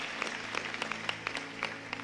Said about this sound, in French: un bel applaudissement pour ça